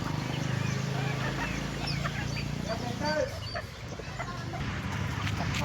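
A Sonali breed hen clucks repeatedly in a small shed, with a run of short, close clucks and murmurs over a continuous farmyard hum and other fowl in the background.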